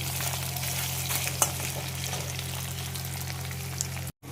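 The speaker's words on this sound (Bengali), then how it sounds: "আর এখানে হচ্ছে মোরলা মাছ ভাজা হচ্ছে।" Morola fish frying in a pan, a continuous close sizzle and hiss with a low hum beneath, briefly cutting out near the end.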